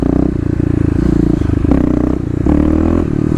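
Kawasaki KLX351 dirt bike with its secondary throttle blade removed, engine roaring loudly and steadily as it pulls through first gear, then a brief shift into second and continued hard acceleration, close and droning without a break.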